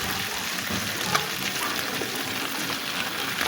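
Water lily stems fry in a pan with onion and garlic, giving a steady, dense sizzle with fine crackling throughout, close and even in level.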